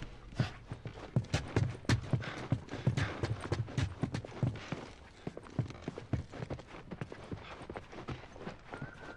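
Horse hooves clip-clop in The Last of Us Part II, a steady walking rhythm of distinct, close hoof strikes throughout, moderately loud with faint ambient background.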